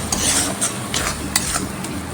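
A spoon scrapes and stirs masala frying in a pan for a street-food pav dish, with steady sizzling and repeated metallic scrapes against the pan.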